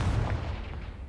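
Confringo fire spell from a Harry Potter video game, heard as one deep, booming blast that fades over about a second, close and moderately loud, alone with no voices.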